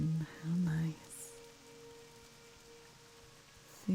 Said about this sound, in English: Oh, we get the rainy ambience through Elwyn.